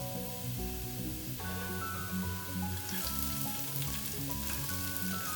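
Green chillies and curry leaves fry in a pan of pork fry with a continuous soft sizzle and crackle, set under a steady background of music and no talk.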